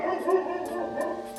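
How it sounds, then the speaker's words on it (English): A pet dog barks indoors at home, a few short, moderately close yips and barks spaced out over a quiet room, with no talk. "What are you barking at?"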